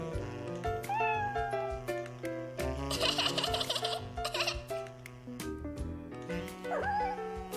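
A cartoon kitten meows and squeals repeatedly over a steady bed of cheerful background music, its high cries rising and falling through the middle of the scene while a shoelace dangles for it.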